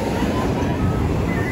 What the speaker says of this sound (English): Let's just watch as the waves come in.